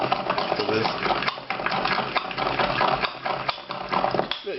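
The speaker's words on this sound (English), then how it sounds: "I'm going to crush these in a mortar." Dried green peppercorns crushed with a pestle in a mortar for a béarnaise sauce, steady grinding and knocking strokes heard close up alongside a person talking.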